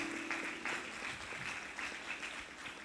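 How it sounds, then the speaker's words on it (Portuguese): Faint, distant applause from a church congregation, a brief spell of scattered clapping heard from afar with soft voices underneath. "Aplaude a Deus por isso."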